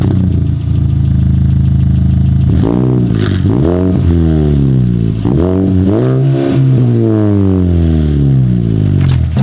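A 2019 Mazda 3 pulls away on a drive: steady engine hum at first, then loud rising and falling revs through several gear changes, close and continuous with no talk.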